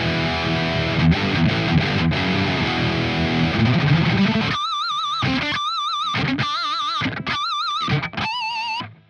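A Squier Sonic electric guitar in lower tuning plays through a Purple amplifier with every setting at zero and no reverb, first as dense sustained distorted chords, then as separate notes with wavering vibrato and gaps between them.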